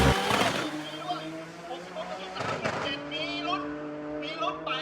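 A Nissan 200SX with a 2JZ turbo engine revs hard at a Bangkok drag racing event, its strained engine note droning loudly with sharp bursts near the start and again midway, crowd and track noise behind.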